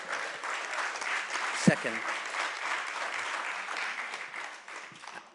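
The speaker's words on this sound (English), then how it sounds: "I love the applause, I must say." Audience applause at a panel discussion on captive elephants, a continuous soft wash of clapping running underneath while a speaker briefly talks over it.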